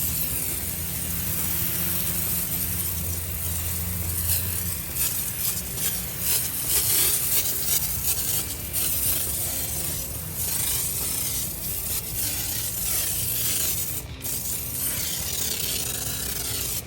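Cleaner sprayed inside a car engine bay: a long, steady hissing spray close to the listener, rising and falling slightly with some rubbing and handling noises, no talking.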